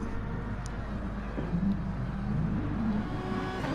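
In a touring car racing video game at Bathurst, a race car spins round after catching the grass, its engine a steady, fairly faint whirring drone with slight surges, heard alone.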